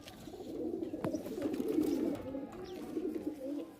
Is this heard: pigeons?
yes